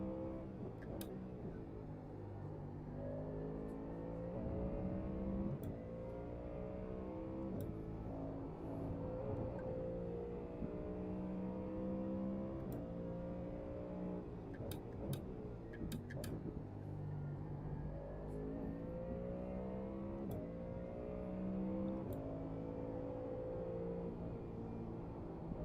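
A race car engine on practice laps at a circuit, heard onboard, drones loudly and continuously, its pitch climbing and dropping repeatedly through gear changes and corners, with occasional sharp clicks.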